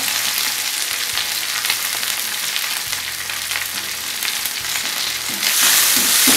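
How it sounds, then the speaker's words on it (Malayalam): Curry leaves and chopped onion fry in a hot pan for banana peel thoran, giving a steady, close, bright sizzle with occasional stirring scrapes and no talking. "ഇനി ഞാൻ കറിവേപ്പിലയും നമ്മൾ അരിഞ്ഞു വെച്ചിരിക്കുന്ന സവാള,"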